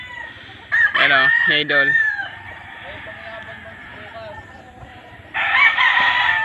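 Hens cluck and a rooster crows repeatedly in a large chicken house on a Sugar 75 farm, the loud bursts rising above a steady background of fowl noise with brief talk mixed in.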